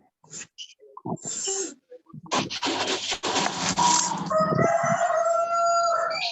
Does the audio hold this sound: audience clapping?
no